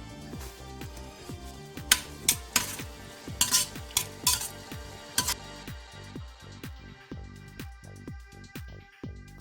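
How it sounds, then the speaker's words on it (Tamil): A spoon stirs chopped tomatoes into mutton dalcha in a pan, scraping and clacking against the metal in a steady, quick rhythm, with a soft sizzle underneath and some sharper knocks, close and moderately loud. "கட் பண்ணி வச்சிருந்த டொமேட்டோ போட்டு எல்லாம் மிக்ஸ் பண்ணிவிட்டு"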